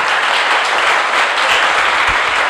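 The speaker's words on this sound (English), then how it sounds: "So let's clap for them once again." A crowd claps steadily for a resource team at a mental health awareness session, a dense, loud, continuous wash of applause that fills the whole stretch without any speech.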